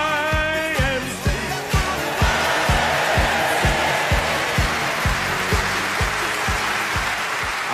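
Studio audience applause on a British radio comedy panel show, sustained and loud throughout, with rhythmic hand claps over a dense crowd wash and a tinny piano tune fading underneath at the start.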